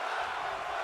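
Wrestling crowd at a championship wrestling event roaring in a dense, continuous wash of cheering and shouting, loud and steady with no pauses.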